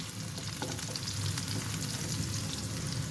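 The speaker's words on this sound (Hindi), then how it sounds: "आप देख सकते हैं टिंडे हमारे फ्राई हो रहे हैं" Ridge gourd (tinda) fries in oil in a pan, a steady close sizzle and crackle that continues without a break and with no voices.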